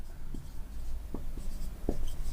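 Marker or chalk writing on a board in a maths class, a few short scratchy strokes over a steady room hum.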